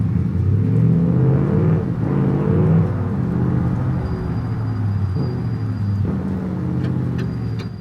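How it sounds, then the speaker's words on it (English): A lightweight car in the BeamNG driving game revs out on its own with no throttle input, a loud, close engine roar that rises and falls in waves over a steady rumble, with no talking. "I like don't even have to touch the throttle at all, and it's immediately revving out."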